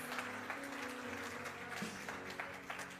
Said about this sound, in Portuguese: Você pode aplaudir a vida deles, igreja?